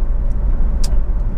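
A Honda Civic 2.2 i-DTEC diesel engine idles with a steady low rumble and faint ticking, heard close and continuous with no change in note.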